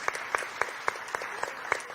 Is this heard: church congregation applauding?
yes